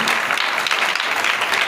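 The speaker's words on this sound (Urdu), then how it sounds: "آئے خدا ان کے لیے زوردار تالیاں دیں" Loud, dense applause from a church congregation fills the space, steady clapping throughout with no break and no talk over it.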